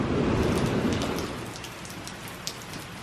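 Rain falls steadily near a log cabin during a vacation, a dense close patter that is heavier at first and then eases to a softer, even hiss.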